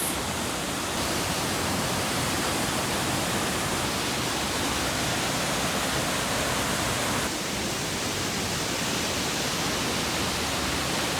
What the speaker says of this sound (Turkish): Güzel şelale sesinden sonra Maçka'ya elveda diyoruz